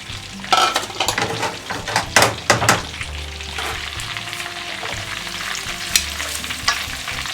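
Sliced bitter melon fries in a generous amount of oil over medium heat, a steady close sizzle broken by several sharp clattering stirs and utensil knocks against the pan.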